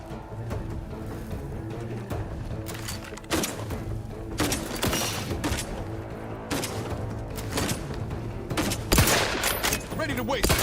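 Sustained gunfire in the video game The Outer Worlds 2, with loud, rapid bursts and volleys of shots repeating throughout, some heavier booms among them, dense and close with little pause.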